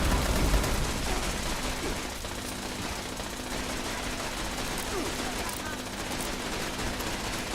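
Rapid gunfire rattles on in a Fallout 76 firefight, a dense, steady stream of shots and crackle that never lets up, with a deeper burst near the start.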